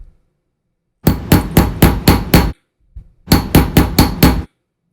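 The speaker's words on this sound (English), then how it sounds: "put this back on the staking set and then hit it with a hammer" A hammer strikes a staking set to close the barrel hole of a vintage Omega Seamaster Caliber 354 automatic watch, ringing out in two close, loud runs of six sharp metallic taps each, separated by a brief pause.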